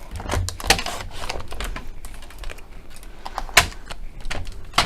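Card stock being trimmed to a strip for handmade card making, a close, busy run of sharp clicking and clacking strokes from the cutting tool over a faint background, with no voices.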